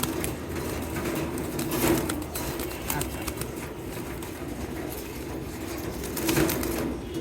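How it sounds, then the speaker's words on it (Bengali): Soft pigeon coos recur low in the background amid steady ambient noise, with a brief spoken word partway through. "এখন আসে একটা ইউনিক কবুতর, এটা খুবই ইউনিক কবুতর।"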